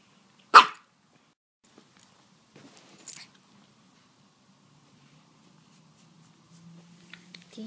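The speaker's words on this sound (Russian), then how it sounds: "Собачки чувствуют запах мяса, они проголодались и базарят" Hungry dogs give a sharp, loud bark close by, then a second softer bark a few seconds later, with quiet stretches and faint rustling between them.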